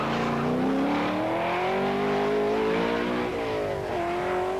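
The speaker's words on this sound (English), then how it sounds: "the mighty TR7 of Pond powers through the beautiful Manx countryside" A 1980 Triumph TR7 rally car on the Manx Rally roars loudly through the countryside, its engine note climbing steadily through the gears with a brief dip and recovery, continuous and close.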